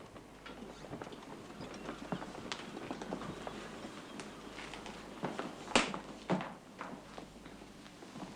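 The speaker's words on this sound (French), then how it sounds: "Je suis sûr d'avoir entendu la charrette." A horse-drawn cart passes at a distance, its hooves clip-clopping in a soft, uneven rhythm under a steady rumble, with a couple of sharper knocks near the end.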